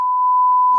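A mobile phone gives one loud, pure electronic beep during a parliamentary session, held steady for almost a second with no talk over it.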